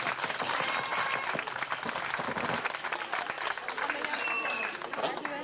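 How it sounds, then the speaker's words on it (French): A crowd claps and applauds steadily, mixed with overlapping voices and chatter, the clapping dense and continuous throughout. "Alors on applaudit pour l'aimer."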